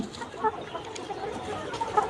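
Many layer hens, 120–130-day-old pullets, cluck softly and continuously, a busy flock murmur with scattered sharper clucks, close and steady.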